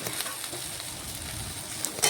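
Okra frying dry in a pan for a vegetarian dish gives off a steady, fairly soft sizzle, with a few crackles and a louder scrape or stir near the end.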